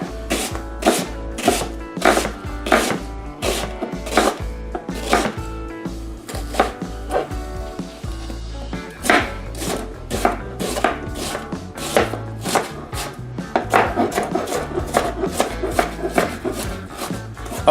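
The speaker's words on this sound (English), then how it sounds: "And then just kind of chop them out into smaller pieces" A knife chops through a medium-sized onion on a board for an eggplant stew, sharp evenly spaced knocks of the blade in a steady rhythm, close and fairly loud, with a brief pause midway before the chopping resumes.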